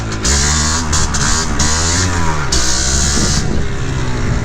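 A 1975 Can-Am TNT 250 two-stroke motorcycle rides close by, its engine revving hard through rising and falling pitch sweeps as it shifts gears, with a steady loud drone and no talking.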